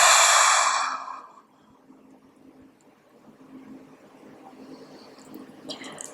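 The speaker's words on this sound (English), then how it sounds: "Deep inhale in through the nose and exhale out of the mouth" A deep, forceful exhale out of the mouth during a yoga breathing exercise for lower back pain, a loud breathy whoosh lasting about a second, then fading to a quiet room with low background hum.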